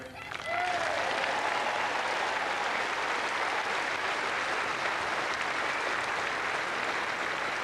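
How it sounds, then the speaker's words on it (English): A tennis crowd breaks into loud, sustained applause that starts abruptly and holds steady as a dense wash of clapping for several seconds, with no voices on top. "they've applauded him all week, they've applauded him again today"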